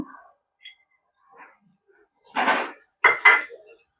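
Mutton keema curry stirred in a pot: a few sparse, faint clinks, then two short, close bursts of spoon scraping against metal near the end, with quiet gaps between.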